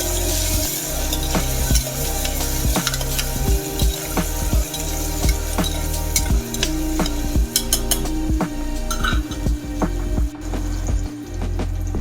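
Onion, ginger garlic paste and chopped tomato are stirred in a hot pan, a spoon scraping and knocking against the metal in a busy rhythm over continuous frying sizzle, close and fairly loud.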